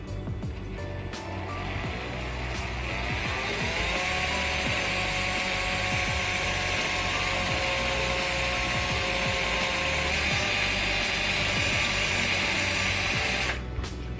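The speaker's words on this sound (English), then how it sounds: "I'm going to go ahead and start drilling." An electric drill bores a pilot hole into a side strake on a Honda S2000, a steady, loud whine that holds for about ten seconds before it winds down, with no talking.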